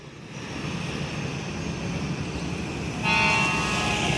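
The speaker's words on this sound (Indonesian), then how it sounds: "Oh ini ciri khas klakson Pewarianto ya, mantap sekali." A Gumarang Jaya night bus sounds its distinctive horn at a roadside junction near Simpang Jambi, a loud sustained multi-tone blast that rises over steady engine and traffic rumble.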